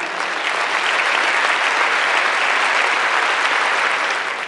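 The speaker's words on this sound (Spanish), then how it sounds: "Fuerte el aplauso." Audience applause at an international mining convention award ceremony, honoring a metallurgical plant; dense, steady clapping from a large crowd fills the hall for several seconds without voices.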